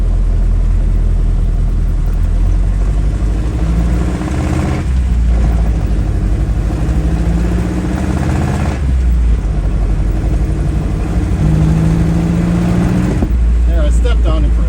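Ford Model A engine fitted with a Holley 94 carburetor, revved briefly with a loud steady engine drone throughout, rising pitch sweeps as the throttle opens, and someone talking over it.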